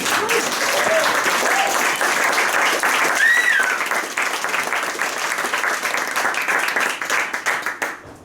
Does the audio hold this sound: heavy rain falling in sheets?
no